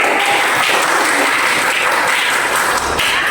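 A group claps together in sustained, fairly loud applause at a training session, a dense wash of hand claps close by without speech.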